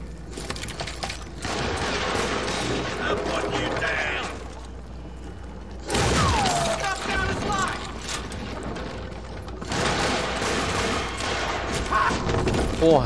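Gunfire in the Western shooter game Call of Juarez Gunslinger comes in repeated bursts of sharp shots with mechanical clicks, separated by brief lulls, at moderate loudness.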